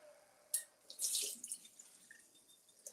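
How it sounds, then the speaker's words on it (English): Tap water splashes in bursts into a bowl of rice being rinsed in a kitchen, with drips and short gushes close by and no talking. "let's do 1 more rinse of the rice water."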